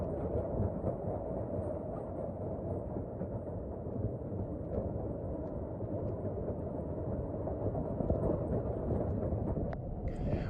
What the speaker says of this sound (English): watch a gravity train come through, and yes, watching a train roll through under its own steam was really something special to watch